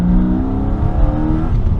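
A BMW S52 inline-six on an M5x-style naturally aspirated build revs up, its loud intake roar rising steadily and close by with harmonic engine tones, with no talking.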